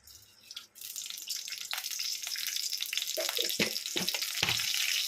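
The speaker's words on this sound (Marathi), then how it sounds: "तर आता तेलामध्ये आपण थोडेसे जिरे घालून घेऊया." Cumin seeds sizzling in hot oil in a heated kadhai while preparing stuffed capsicum, rising from a quiet start into a steady close crackling sizzle with small pops.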